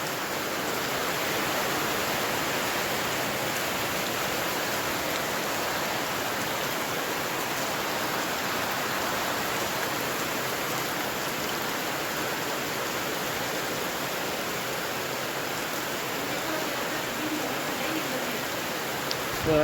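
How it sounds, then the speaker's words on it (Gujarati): Monsoon rain falls in a steady, broadband wash of hiss that stays even and unbroken for about twenty seconds, with no clear voices over it. "અષાઢી બીજનો વરસાદ આવી ગયો છે અમારે"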